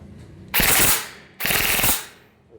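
An ARP556 electric gel blaster fires on full auto in two close, loud buzzing bursts of roughly half a second each, separated by a short pause, with no talk.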